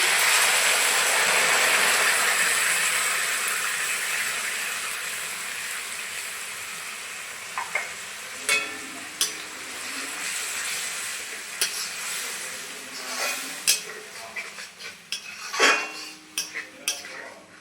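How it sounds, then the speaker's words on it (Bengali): Pointed gourd paste going into a hot pan for a mashed gourd dish, with a sizzling hiss fading over several seconds, then repeated metal spoon scrapes and clinks against the pan as it is stirred. "এখন পটলের পেস্ট দিয়ে দিচ্ছি"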